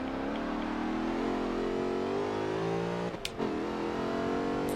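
A race car's engine whines steadily at high revs as it takes a corner in a track racing game, its pitch wavering slightly, then a brief gear-shift blip near the end, loud and alone without talk.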